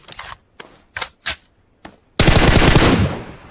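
An M416 assault rifle fires in PUBG Mobile: several short separate shots with gaps, then a sustained loud automatic burst rattling for over a second before tapering off, close and sharp.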